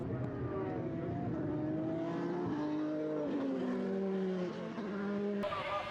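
Formula race cars at Mondello circuit in Ireland braking and accelerating into the final corner, high engine notes swooping down and back up through gear changes, loud and steady with a brief sharper burst near the end.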